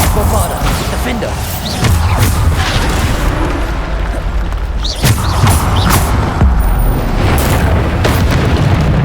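Bombarda spell explosions in Hogwarts Legacy, heavy booming blasts landing repeatedly over a constant loud rumble of combat, with sharp crashes and crackles mixed throughout.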